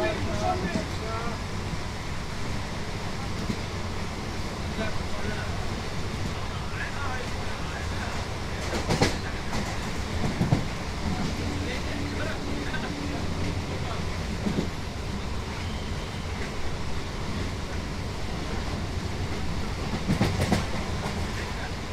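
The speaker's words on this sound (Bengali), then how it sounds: "চারদিকে ট্রেন পুরো জাঁকিয়ে ছুটছে।" A Sealdah to Bangaon local train in West Bengal runs at speed, its steady, loud rumble and rail clatter continuous throughout, with occasional sharper clanks and faint voices in the background.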